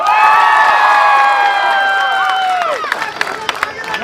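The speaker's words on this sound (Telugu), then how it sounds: "ఒకసారి అందరూ క్లాప్స్" A crowd claps and cheers loudly at an election campaign rally for Lokam Madhavi outside a Sita Rama temple in Ravada village, with sustained applause, shouts and whistle-like tones that fade slightly toward the end.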